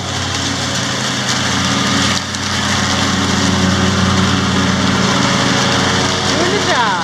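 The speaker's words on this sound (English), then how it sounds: "Look at John Deere with a mulcher." A 2017 John Deere X350 lawn tractor with a mulcher cuts grass, its engine droning loud and steady throughout with a brief dip, while a voice talks over it.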